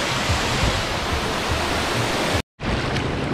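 A waterfall roars close and loud as a continuous broadband rush of falling water, with a brief cut near the end before the torrent resumes.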